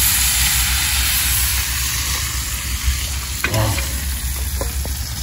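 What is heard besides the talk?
sardines being sautéed in cooking oil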